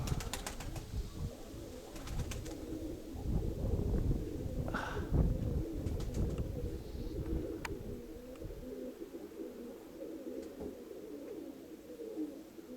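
Pigeons coo softly and repeatedly outdoors, low murmuring calls at moderate distance with occasional wing flaps and light rustling around them.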